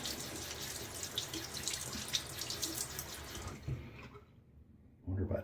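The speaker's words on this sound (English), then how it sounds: "I want to rinse off my hand." Water runs steadily from a bathroom tap while a hand is rinsed after shaving, a close continuous splash that cuts off near the end, then a clunk of handling.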